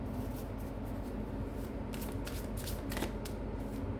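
Oracle cards shuffled by hand in a steady run of soft papery riffles, close and fairly loud, with brighter flurries toward the end and no talking.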